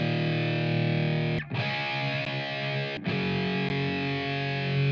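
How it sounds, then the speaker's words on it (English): Rock guitar with heavy distortion, run through a UAD Fatso tape-style processor, plays sustained chords at steady loudness with a couple of short breaks, dense and saturated across the whole range. "I'm using the UAD Fatso to give it a little vibe"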